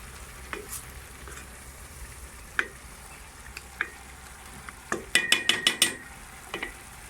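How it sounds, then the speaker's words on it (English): Mince curry fries in a pan in an off-grid tent kitchen with a steady low sizzle, while a spoon scrapes and stirs in a quick burst of clinks and scrapes near the end, no talking. "I will stir this up. And if I haven't mentioned it, I'm actually making some mince curry today."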